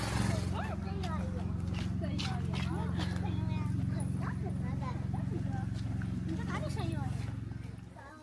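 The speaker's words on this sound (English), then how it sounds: "Who wants to see a horse?" Horse hooves clip-clopping at a farm, a steady, fairly close walking rhythm of clops that carries under continuous conversation from several people.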